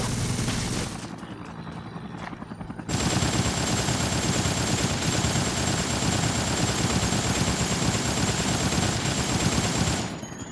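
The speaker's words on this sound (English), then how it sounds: "you can hear that there is a Special Forces helicopter around" A dense, steady military helicopter rotor roar fills most of the clip, loud and continuous, with a brief quieter stretch near the start, in the video game Dead Rising.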